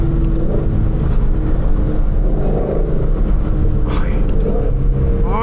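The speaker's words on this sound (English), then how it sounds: "Let y'all hear some of these downshifts." A supercharged Ford Shelby GT500 engine rumbles and blips through downshifts with a faint blower whine. The engine is loud and close under cabin noise, with rev flares near the end.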